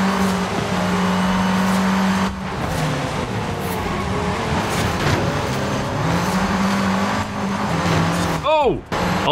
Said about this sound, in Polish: O, jedzie ta nowa Alfa 4C.